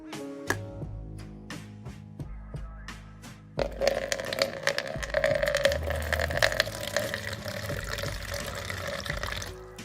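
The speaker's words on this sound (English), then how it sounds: "First of all, I take a bowl with water." Tap water pours into a bowl, a steady splashing wash that begins after several sharp plinks and knocks and runs continuously to the end, close and fairly loud.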